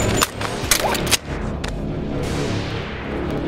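Several sharp gunshots fire in the VR shooter game Boneworks, a quick cluster of loud, close cracks early on followed by a rumbling tail fading into steady background noise.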